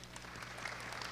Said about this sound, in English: Let's give Whitney a big round of applause.